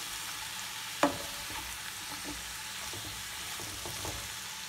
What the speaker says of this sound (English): we need to keep on checking the vegetables and give a good stir in between so that the vegetables do not get burnt